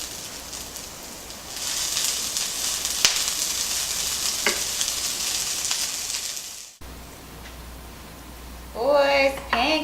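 Bacon pancakes sizzle steadily in a hot pan, a loud continuous fry that cuts off abruptly, followed by a quieter stretch with a short burst of voice or clatter near the end.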